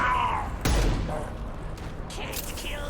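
Impact shot fired in the video game Mass Effect 2: a single loud gunshot burst partway through, followed by a short decaying rumble and fainter game noises under a busy background.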